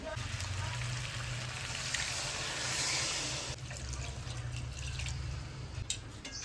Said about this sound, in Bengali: এখন হালকা একটু জল দিয়ে দেবো